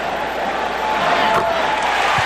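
A basketball arena crowd at a 1992 NBA playoff game between the Cavaliers and the Bulls cheers after a Michael Jordan dunk, a broad roar of many voices that swells slightly and sounds fairly distant.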